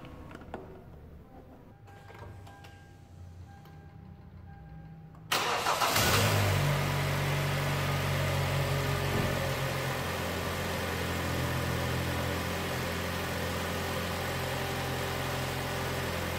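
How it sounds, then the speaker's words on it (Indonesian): A car engine cranks briefly and catches, then settles into a steady, even idle close by, following several seconds of quiet background hum while a battery cranking test runs. "Setelah itu kita coba start mesin hingga menyala."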